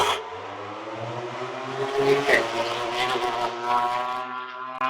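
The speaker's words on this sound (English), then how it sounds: "we're live at Sepang track today, and we've got the bikes going by" MotoGP racing motorcycles at the Sepang circuit during a test session, their high-revving engines whining loudly past with a sharp pitch sweep midway, several bikes overlapping in a steady roar.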